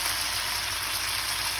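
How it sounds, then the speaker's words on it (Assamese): Onions, green chillies and tomatoes fry in a pan, a loud, close, unbroken sizzling hiss that holds steady throughout. "এইখিনি অকণমান ৰঙচুৱা পৰাকৈ ভাজি ল'ম"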